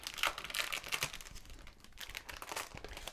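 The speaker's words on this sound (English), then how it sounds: "the first thing that I'm going to do is to take my stencil out of the package, and I'm going to cut it apart" Thin plastic packaging crinkles and rustles as a glass etching stencil is pulled out of its sleeve, a close, busy scatter of soft crackles and crunches running steadily throughout with no talking.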